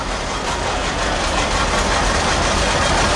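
A 1953 John Deere straight 80 tractor engine running in an Independence Day parade in Oakville, Washington, a loud, steady, close low rumble that holds without a break.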